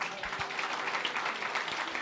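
A church congregation claps during a worship service, producing a steady, fairly soft wash of applause from many hands that continues evenly throughout.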